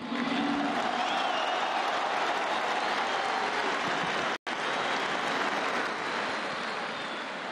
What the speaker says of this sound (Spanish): Un gran aplauso para don Jorge Nicolini.